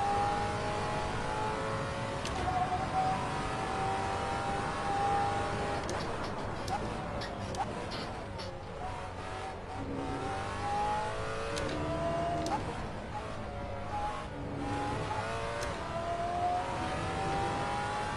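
Race car engines in an online circuit racing game, a steady mid-pitched drone that climbs and drops through gear changes, with brief sharper bursts and a faint voice underneath.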